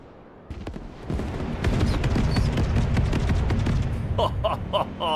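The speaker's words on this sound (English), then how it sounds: "Rockets, missiles, guns." Rockets, missiles and gunfire in the Broken Arrow war game: a sudden boom opens into a thick, loud barrage of overlapping shots and blasts, with sharp chirping bursts near the end.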